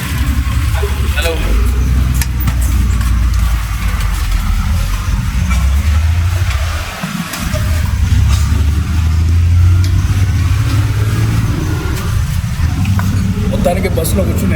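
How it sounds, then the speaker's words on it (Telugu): Inside a moving bus in Sri Lanka, a loud, steady rumble of engine and road noise continues throughout, with one brief dip partway, under people talking. "సో ఇలా ఉంటుందండి బస్సు లోపల."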